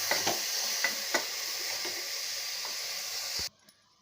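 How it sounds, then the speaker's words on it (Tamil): Onions and tomatoes sautéing in a pan for a sweet corn vegetable biryani, a steady close sizzle with occasional spatula clicks and stirring scrapes, cutting off abruptly near the end. "நல்லா வதக்கி விடலாங்க."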